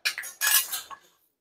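Black peppercorns crushed coarsely in a mortar and pestle for homemade mixed-dal papad, giving a short burst of several sharp, close clinking knocks over about a second, heard alone.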